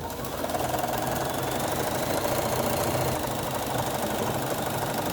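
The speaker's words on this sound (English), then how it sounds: "Take it to the sewing machine." A sewing machine sews a quarter-inch straight seam on a quilt block steadily at close range, its rapid mechanical stitching buzz continuing without pause, no voices present.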